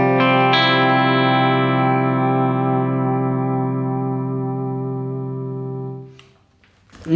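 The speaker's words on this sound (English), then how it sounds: "the first thing that I'll pretty much always use on clean sounds is the Mini Ego Comp" A clean electric guitar tone runs through a Mini Ego Comp compressor pedal: one sustained chord rings evenly and close for several seconds, then fades, and a brief scratch of string noise follows.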